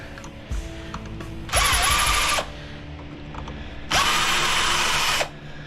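A power drill runs on screws in the metal chassis of a hotel TV controller during e-waste scrapping, two loud bursts of about a second each with quieter handling and clanks in between.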